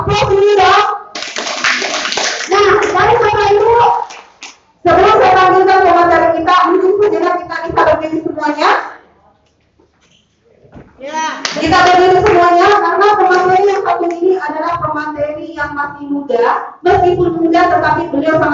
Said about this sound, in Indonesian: Aplaus dulu dong.